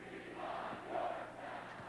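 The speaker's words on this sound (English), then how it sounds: "And the crowd starting to chant" A basketball arena crowd chants during a Washington Huskies at Duke Blue Devils game, a faint, distant rhythmic swell of many voices that rises in two pulses.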